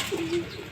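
Pigeons coo softly close by as they come in to be fed, a brief low murmuring call over light background noise.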